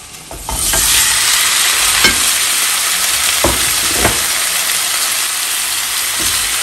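Boiled, salted potatoes fry in a pan of oil with a steady, loud sizzle that holds throughout, broken by a few light knocks of stirring.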